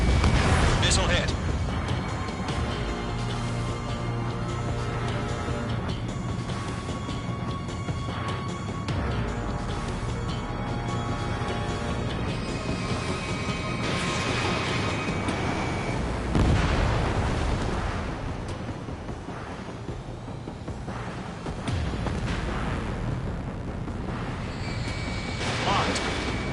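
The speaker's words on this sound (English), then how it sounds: "Missile hit." Missile strikes and explosions in a PS4 combat video game, booming dense and loud over a constant rumble of engine and battle noise, with bursts around the middle and near the end, while voices talk throughout.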